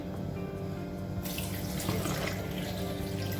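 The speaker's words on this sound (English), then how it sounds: "and then I'm gonna add my water." Steady rush of water pouring continuously into a blender, a full broadband hiss that swells slightly partway through, with no voices.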